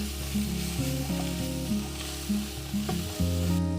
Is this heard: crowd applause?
no